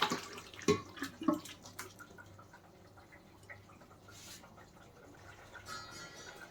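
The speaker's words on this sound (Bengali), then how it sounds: "দেখেন এখন আমি বাটিতে ঢেলে নিয়ে নিলাম" Chicken curry poured from a pressure cooker into a bowl, wet slopping and spoon scrapes at first, then fading to a soft, quiet trickle.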